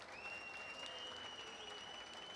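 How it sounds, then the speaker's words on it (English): A crowd at a Gamescom stand claps and applauds, a steady, even patter of many hands sustained throughout, with a faint tonal whine above it. "Clap your hands."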